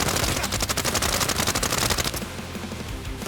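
Rapid automatic gunfire in the online shooter game Arena Breakout Infinite, loud dense bursts of shots rattling in quick succession before tapering off near the end.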